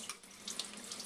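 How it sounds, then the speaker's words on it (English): Tap water runs gently into a sink while seeds are rinsed, a soft continuous splashing hiss lasting about a second, quiet and close, with no speech. "then I turn the water on kind of gently, and I just wash these seeds just like this"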